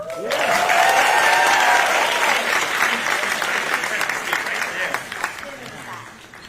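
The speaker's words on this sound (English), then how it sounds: "Let's give her another round of applause." Loud, sustained applause from a large crowd at NC A&T University for the First Lady, steady clapping that swells early and slowly thins out, with a voice briefly audible over it at the start.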